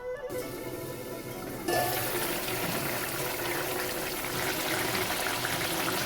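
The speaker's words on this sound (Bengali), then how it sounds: "বাকিটা সিদ্ধ হওয়ার জন্য অল্প করে জল দিয়ে দিচ্ছি।" Water is poured into potato curry cooking in a pan, making a sudden loud rushing, splashing gush that starts abruptly and continues steadily, close up, with no talk.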